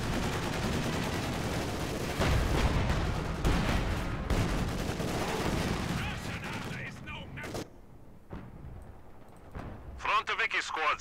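Artillery and gunfire in the video game Company of Heroes 2, heavy booming shots and rattling bursts close and loud, with in-game voices shouting over the battle before it thins into sparse blasts.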